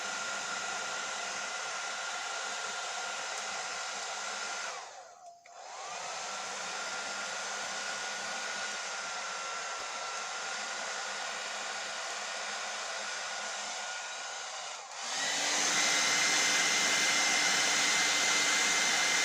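A hair dryer runs loud and steady close by, briefly cutting out or shifting near the start and changing pitch and level toward the end, with no talking.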